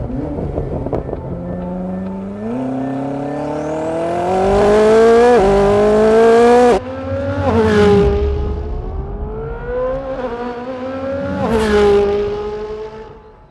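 A Koenigsegg Sadair's Spear sports car accelerates hard on the Gotland Ring track in Sweden, its engine note climbing in pitch through the gears with brief breaks at the shifts. It is loud and close, with no talk.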